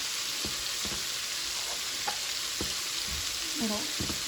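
Potatoes are mashed by hand with milk, making soft irregular squishing and sloshing with a few sharper knocks of the masher, close up over a steady background hiss, with no talking.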